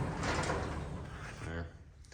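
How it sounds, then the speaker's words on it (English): The door of an '82 Chevy short bed square body truck swings shut with a single solid thump near the end of the clip, heard up close. "Let's close this door."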